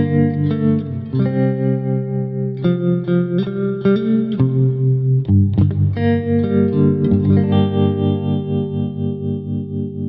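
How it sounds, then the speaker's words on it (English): Electric guitar played through a Walrus Audio Monumental analog stereo tremolo pedal, sustained chords pulsing in steady tremolo throb with a chorus-like wash, loud and close with no talking. "This is the Monumental Tremolo from Walrus Audio."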